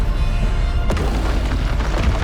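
A Bombarda spell explosion in the game Hogwarts Legacy gives a loud, deep boom near the one-second mark. A dense rumbling roar of battle sound fills the rest of the clip, with no voices.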